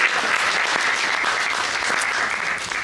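A theatre audience at a stage play breaks into dense, steady applause for an actor, loud and sustained throughout with no voices standing out.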